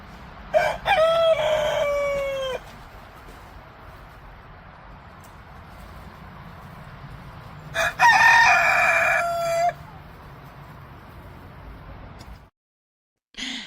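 Leghorn chickens crow and cluck in two loud bursts, each roughly two seconds long, separated by quieter stretches of low background noise; the sound cuts out briefly near the end.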